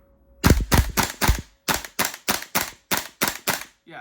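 A KLI SR4 CO2 blowback airsoft rifle fires about eleven sharp semi-automatic shots in cold weather, each a crisp close snap with mechanical clack, in a quick uneven rhythm with a brief pause partway.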